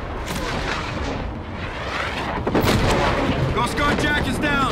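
Covering gunfire and booming artillery from the Call of Duty moon battle mission Operation Port Armor, a continuous loud roar of shots and blasts with warbling sci-fi effects toward the end.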